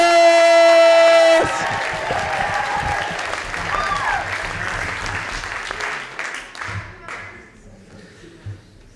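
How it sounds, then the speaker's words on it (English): Audience applause and cheering at a teen poetry slam in a library, a sustained wash of clapping from a crowd with scattered whoops, following a sustained electronic tone at the start and slowly thinning out. "Please keep your applause going for our next poet coming to the stage."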